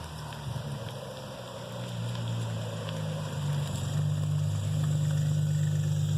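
A Toyota Supra with vacuum leaks sits idling roughly nearby, a steady low engine drone that grows slightly louder and wavers unevenly, with no talking.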